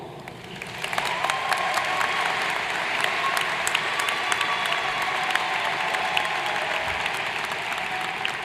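Commencement audience applauding a speaker at Framingham State University, steady sustained clapping from a large crowd filling a hall, even and continuous throughout with faint scattered cheers.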